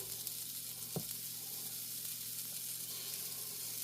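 Rounds of Japanese baked sweet potato (yaki imo) frying in a pan, giving a steady, even sizzle throughout with a single brief tap near the start and no voices.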